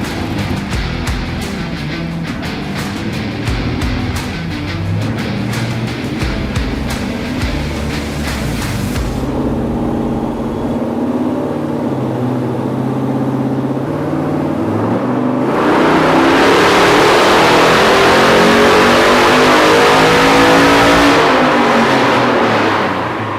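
A Factory Five '35 truck build revs its engine with a lumpy, choppy cam idle, loping and pulsing at first, then settling before swelling into a louder, steady roar for the final stretch, with no talking.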